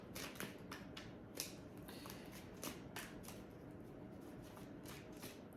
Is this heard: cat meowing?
no